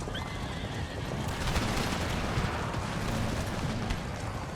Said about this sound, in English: Look at all those horses.